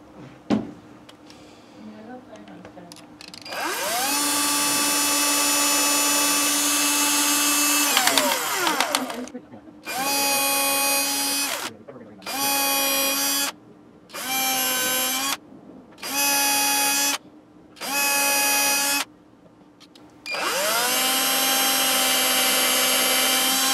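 A power drill whines steadily, then runs in several short bursts with brief pauses between them, loud and close, drilling holes through a guitar neck.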